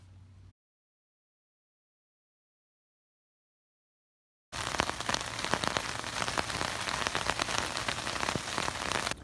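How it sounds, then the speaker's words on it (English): Steady rain patters on the fabric of a homemade ultralight tent, a dense even hiss close by that starts after a short silence and continues without a break. "It's been raining"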